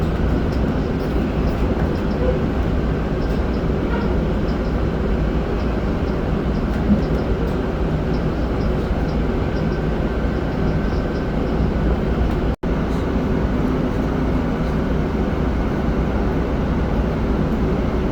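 A train pulls in at Little Tokyo Arts District Station, with a continuous loud low rumble and rolling rail noise heard from inside, broken by one brief dropout partway through.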